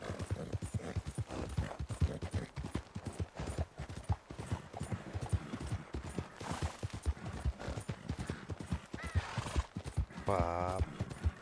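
Horse hooves in Red Dead Redemption 2 clatter rapidly in a steady galloping rhythm, loud and close throughout, with no voices.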